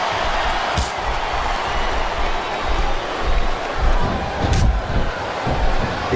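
Wrestling arena crowd during an Iron Man match between Candice Michelle and Torrie Wilson, a steady loud roar of many voices with scattered thuds and slams from the ring, sustained throughout.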